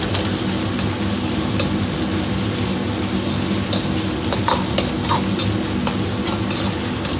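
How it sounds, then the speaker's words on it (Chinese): Pork belly stir-fried with spicy chili sauce in a wok, a dense steady sizzle with scattered crackles and occasional spatula scrapes, loud and close with no voices. "接着放入适量的香辣酱，炒出颜色，炒出香味"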